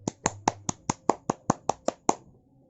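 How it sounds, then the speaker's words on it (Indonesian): Ten sharp hand claps in an even beat, close and crisp, stopping abruptly with a brief quiet tail; it follows a teacher's call for children to applaud during a second-grade lesson. "Beri tepuk tangan untuk kita semua."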